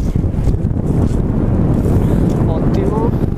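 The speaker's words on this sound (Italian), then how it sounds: "È bellissimo perché c'è vento." Wind blowing across a beach, a loud, steady buffeting rush hitting the microphone throughout, with a brief faint voice near the end.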